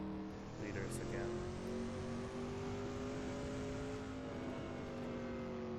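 A 1960s race car accelerating hard around Watkins Glen in Assetto Corsa, its engine a steady, loud, rising drone held at full throttle, with a brief gear-change blip near the start and a commentator's voice faintly underneath.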